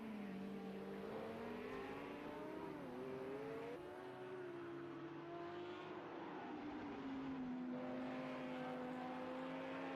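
A Lamborghini race car engine in a racing video game, heard from trackside on the Catalunya circuit: a steady, sustained drone with shifting pitch as it revs and changes gear, no talk.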